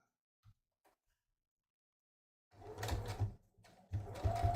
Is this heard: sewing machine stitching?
yes